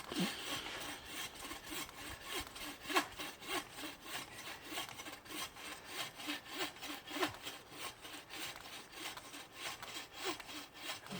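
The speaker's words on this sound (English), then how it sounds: "I'm going to get so far with the saw through this" A hand saw cuts through a felled tree for firewood, with steady rhythmic push-pull rasping strokes of the blade biting into wood, close and continuous.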